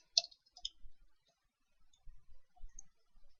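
A computer mouse gives a handful of sharp, close clicks, the first pair near the start and a loose cluster of softer ones later, with quiet gaps in between.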